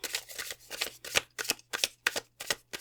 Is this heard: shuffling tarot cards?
yes